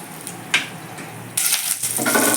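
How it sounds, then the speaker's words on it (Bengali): Bay leaves and whole garam masala spices hit hot oil with a brief pop, then settle into a steady, close sizzle that builds for the last second, with no talking. "এবার ওই তেলের মধ্যেই দুটো তেজপাতা আর একটু গোটা গরম মশলা ফোড়ন দিয়ে দিলাম"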